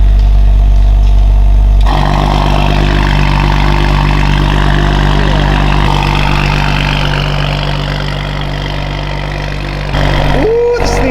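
A Toyota Supra's engine and exhaust drone loudly and steadily at idle, shifting in tone partway through before a brief rev near the end, with a voice speaking over it.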